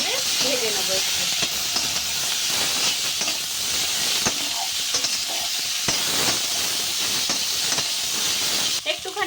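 Water poured into a pan of frying ground spices (onion paste, cumin, turmeric, red chilli) gives a loud, continuous hiss and sizzle with stirring scrapes throughout.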